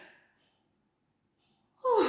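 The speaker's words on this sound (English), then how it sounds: "I just keep yawning." A single yawn closes the moment, a loud, breathy exhale rising near the end after a long stretch of near silence.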